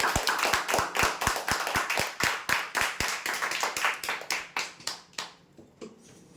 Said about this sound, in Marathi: जोरदार टाळ्या होऊ यांच्यासाठी